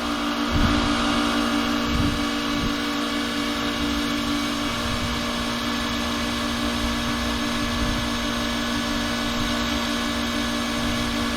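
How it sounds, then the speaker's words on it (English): A pump fills a tank with a steady, even motor drone and a constant hum that stays level and close for the whole stretch, with no talking. "now he started the pump"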